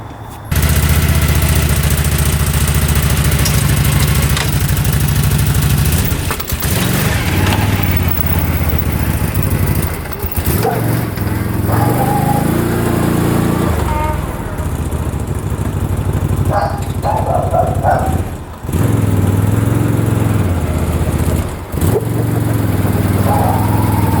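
A rebuilt UTV engine runs loud and steady close by with its clutch engaging, the rough mid-pitched drone holding throughout and dipping briefly a few times as it surges and bogs.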